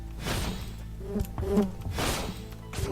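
Bees buzz in a pickaxe-themed video game, a steady insect drone that swells and fades as they fly close, mixed with faint game noises and thuds.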